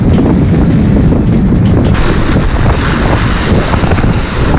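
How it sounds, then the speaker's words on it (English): Strong wind buffets the microphone over big breaking waves on a sea-bass fishing shore, a loud, constant roar of gusts and surf with no pauses. "Really strong wind, very strong current, and yeah, big waves."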